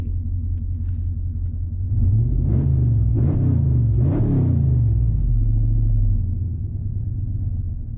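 A 600 hp Dodge Scat Pack engine idles with a deep, loud rumble from inside the car, then revs several times in quick surges before settling back to idle.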